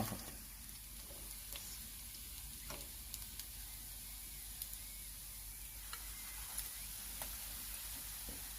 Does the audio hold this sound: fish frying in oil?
yes